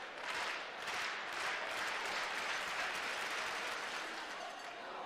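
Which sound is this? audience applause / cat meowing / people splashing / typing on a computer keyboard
audience applause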